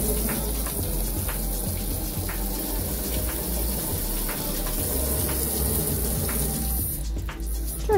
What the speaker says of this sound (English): this is where you use hot water. Over to the tap.